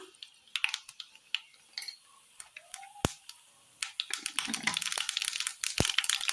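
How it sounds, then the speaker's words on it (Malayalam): Mustard seeds splutter in hot coconut oil in a pan for a Kerala-style curry, giving irregular sharp pops and crackles that start sparse and quiet and grow denser toward the end, with no talking. "അടുപ്പത്തൊരു പാൻ വെച്ച് കൊടുത്ത് അല്പം വെളിച്ചെണ്ണ ഒഴിച്ചു കൊടുക്കാം ചൂടായ എണ്ണയിലേക്ക് കടയിട്ട് കൊടുക്കാം"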